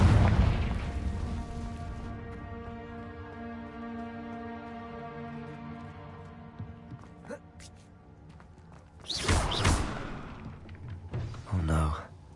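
A Confringo fire spell detonates in Hogwarts Legacy, a loud booming blast followed by a long rumbling tail, then a second burst and a smaller crackling pop near the end, over ambient game sound.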